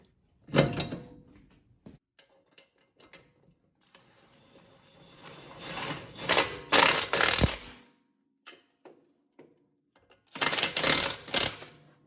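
A ratchet wrench tightens the brake caliper bolts on a 2007 Lexus LS460, making short bursts of crisp clicking with scattered metal taps in a quiet garage.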